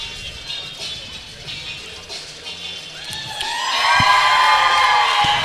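Crowd noise at a pickleball match rising from a low murmur into loud cheering and whooping as the spectators do the wave, swelling over the last couple of seconds.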